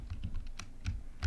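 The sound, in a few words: computer keyboard key presses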